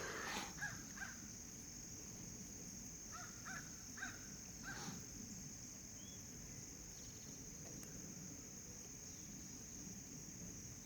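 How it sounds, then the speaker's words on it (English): A crow caws several times in a loose series of harsh calls, moderately distant, against a steady outdoor hiss with insect-like drone. "we've got a crow for a cheerleader"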